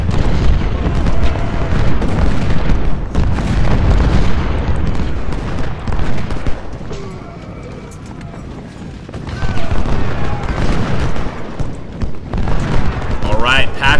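Booming cannon and crackling rifle fire in the Civil War strategy game Ultimate General: Civil War, at the Second Battle of Bull Run, rumbling continuously under a voice that keeps talking throughout.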